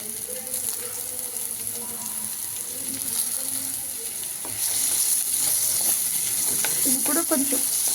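Pieces of ridge gourd fry in a pan with a steady, moderate sizzle, punctuated by stirring scrapes and clinks near the end, where the hiss grows brighter and louder.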